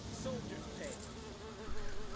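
Bees in the fantasy game Sudeki give off a steady, close insect buzz that continues without a break under game sounds and faint background music.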